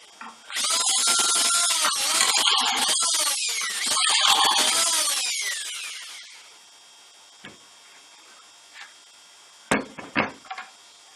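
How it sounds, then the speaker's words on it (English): A drill bores dowel holes through a Dowelmax jointing jig into a wooden workpiece, two bursts of whirring cutting up close, then quieter handling clicks and a few sharp knocks from the jig and clamp. "Drill your holes."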